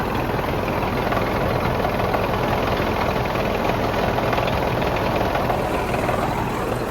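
A 2011 Hino FM 320P 6x4 tractor head's diesel engine idles steadily, a dense, even rumble with a continuous high whine riding on top for most of its length, close and unbroken, with no speech.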